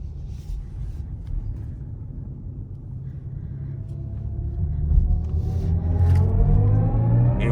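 A BMW i7 electric sedan accelerating hard under boost, a low road rumble swelling in loudness with a rising whine sweeping upward over several seconds, heard from inside the car.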